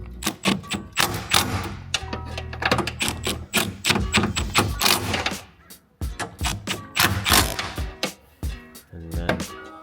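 Fasteners being snugged down on an ND Miata side mirror with a ratchet and extension, giving dense rapid clicking and tapping bursts close by, with a short pause midway.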